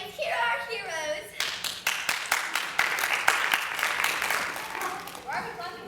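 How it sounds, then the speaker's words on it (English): A crowd of middle school students claps at a mock award ceremony, with steady, close, loud applause of many hands. Children's voices come before and after it. "Why are we clapping again?"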